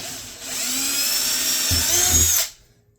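An electric drill whirs loudly for about two seconds while boring a hole in an Apache case, its pitch shifting as it bites into material, then spins down and stops.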